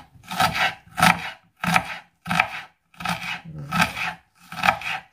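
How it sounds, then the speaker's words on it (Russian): Red onion being finely chopped with a knife on a cutting board for herring under a fur coat salad: seven evenly spaced bursts of rapid close chopping, each separated by a short pause, with no talk. "мы решили сделать красный. Режу очень мелко. Очень мелко режу."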